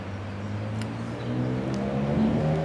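A car engine idles and then builds with a throaty European exhaust note, a steady low rumble that grows louder toward the end, recorded close with no talking.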